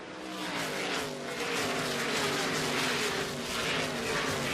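NASCAR K&N Pro Series stock cars race at Iowa Speedway, a dense, steady roar of engines that swells and fades as the pack passes at a distance.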